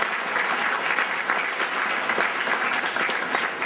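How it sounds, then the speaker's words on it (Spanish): A congregation at a Catholic mass in the Church of Our Lady of Guadalupe claps together in a steady, full round of applause, loud and even throughout, with little talk. "levanta la mano, Sarita, vamos a darle un aplauso."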